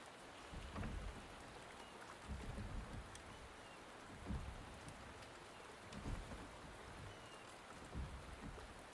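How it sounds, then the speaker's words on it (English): Soft, steady rainfall in a Wuthering Waves video game cutscene, a faint continuous hiss broken by low, muffled thumps every second or two, with no voices. "The rain is subsiding, and the sky will soon clear."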